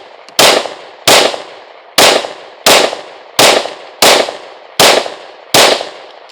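Ten rounds from a Shield Plus Carry Comp pistol fired at a small hostage-style target: eight sharp, loud reports come at an even pace, roughly 0.7 seconds apart, each ringing off briefly, with no talk.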